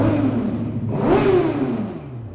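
A Suzuki GSX-R sport motorcycle engine revs up close and loud, climbing in pitch to a peak and then falling back as the throttle eases, a single rising-and-falling rev over a steady idle.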